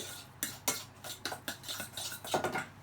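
A spoon stirs ham velouté with pepper in a pot, giving a steady series of close metallic scrapes and clinks roughly every quarter second, with no voices.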